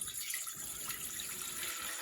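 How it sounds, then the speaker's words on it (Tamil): Water being poured into an idli steamer for cooking amla (gooseberries), a steady bright splashing stream that carries on evenly throughout, close by with no talk. "நெல்லிக்காய் வேகிறது தண்ணி ஊற்றிப்போம்"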